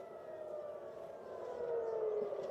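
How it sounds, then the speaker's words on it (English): Air raid sirens wailing over Tel Aviv during wartime attacks: a faint, distant sustained tone that slowly rises in pitch and volume, with no talking. "that is the very, very distinctive sound of air raid sirens there over Tel Aviv"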